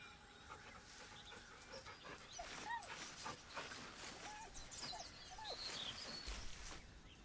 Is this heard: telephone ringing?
no